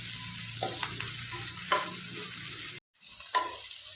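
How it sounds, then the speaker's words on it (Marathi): Tomato, ginger and garlic sautéing in a pan give a low, continuous sizzle with a few spatula scrapes, broken by a brief drop to silence near the end before the frying resumes. "टोमॅटो आलं लसूण हे घातलेलं आहे हे सगळं असं सगळं स्मॅश होईपर्यंत आता आपण हे परतत राहायचं"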